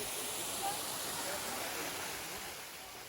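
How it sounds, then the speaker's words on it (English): A nearby waterfall near a party venue in France, its broad, steady roar of falling water filling the air continuously and evenly. "we went and had a little hike to a nearby waterfall that's close to the venue area"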